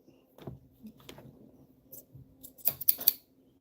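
Scissors snip several times, quiet isolated cuts early on followed by a quicker run of three sharp, close snips near the end, with little else around them.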